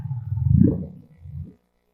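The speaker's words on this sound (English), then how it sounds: "This is a humpback whale whoop call." A humpback whale whoop call: a single low, rising and swelling tonal moan that peaks and then fades, followed by a shorter, softer second low pulse, heard alone and close with no voices.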